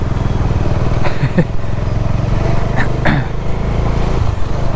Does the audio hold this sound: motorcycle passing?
yes